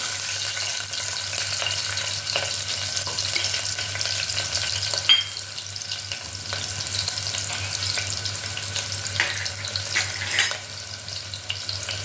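Steady sizzle of chopped shallots frying in oil in a pan, crackling continuously with occasional sharper pops and a faint clink near the middle.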